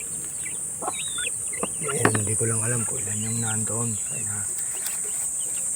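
A brooding mother hen near her nest of eggs gives a run of low, rhythmic clucks in the middle, close by, while someone talks quietly over steady insect buzz.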